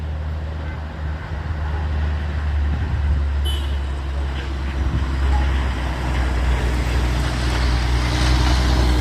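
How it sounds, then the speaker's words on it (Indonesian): A Daihatsu Gran Max van climbing a steep hill at Bukit Kodok, with a steady loud engine drone and low road rumble from close by, joined by a brief high squeal partway through. "Ya, naik lagi bosku Grand Max-nya."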